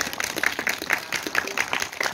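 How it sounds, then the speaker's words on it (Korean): Audience at an outdoor book concert giving applause for civilian advisers, scattered clapping with uneven bursts, moderately close, with some crowd noise mixed in. "우선 여기 앉아 계신 우리 민간 자문사분들 모두 다 큰 박수 부탁드리겠습니다."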